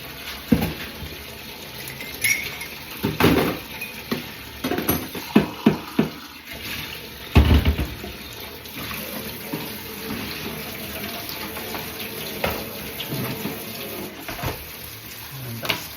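Warm water runs steadily from a kitchen tap into a sink as a bowl fills for washing up dishes, a continuous close hiss broken by a few louder splashes and clatters of items being handled.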